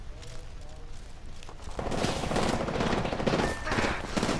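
Gunfire in the video game Apex Legends: rapid automatic bursts building into a dense, loud volley of shots in the second half, mixed with game action sounds.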